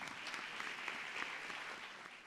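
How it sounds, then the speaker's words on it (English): At a school investiture ceremony, an audience applauds the head boy with dense, continuous clapping heard from a distance at fairly low volume throughout the short clip. "Let's give him a warm round of applause."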